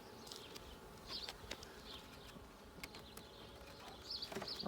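Honeybees buzz softly around an open backyard hive during an inspection. The hum is low and continuous, with brief louder passes of single bees and a few faint clicks.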